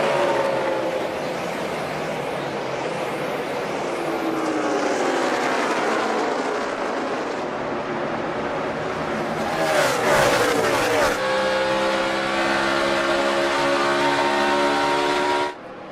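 NASCAR stock cars racing at the 2011 Ford 400, engines roaring loudly past with rising and falling revs as cars sweep by, a sharp burst near the end, with a commentator's voice faint under the engine noise.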